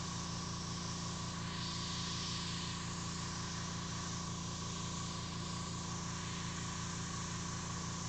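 Airbrush hissing steadily as it sprays paint onto a car design rendering, a continuous airy spray with a constant low hum from the compressor or motor underneath, held unbroken throughout.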